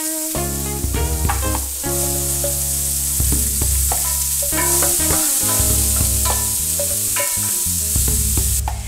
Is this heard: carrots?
yes